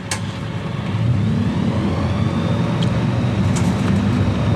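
A light aircraft engine roars at full power on a takeoff run in Flight Simulator 2020, a steady loud droning hum that builds in the first second and holds, with a few faint clicks.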